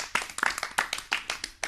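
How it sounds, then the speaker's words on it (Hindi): A few people clapping together, a quick burst of close, sharp handclaps in an uneven rhythm, brief and lively. "तो हमारी दोस्त के लिए तालियां तो बनती है"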